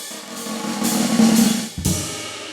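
Snare drum press roll in a jazz swing fill, a steady buzzing swell of rapid strokes cut off by a sharp accented hit and a short ringing tail; close, with no voices.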